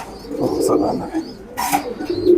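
Pigeons coo in a loft in soft, low, rolling bursts close by, with a brief rustle partway through.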